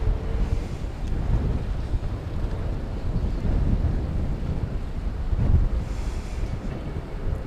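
Steady outdoor wind buffeting a microphone at a DFW Airport plane spotting spot in late afternoon heat, a continuous low rumbling rush with gusts swelling near the end, no talk.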